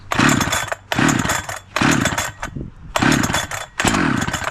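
A new 71cc chainsaw engine revs up loud and close in five sharp bursts, each roaring for about half a second before dropping back to a brief lull.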